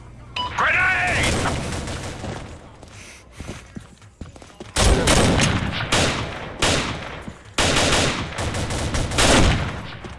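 Bursts of rapid gunfire in a French search-and-destroy round of an online shooter, rounds tearing through window glass, loud volleys coming in waves with brief gaps between them.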